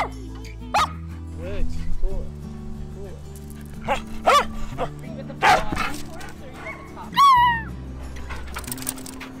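A pet dog barks in short, loud bursts among whimpers and yips, with a person talking softly between the barks.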